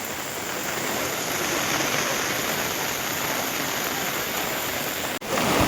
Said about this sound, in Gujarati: વરસાદ આવી ગઈ ઝપટ બોલાવે રહેવાનું નામ જ નથી.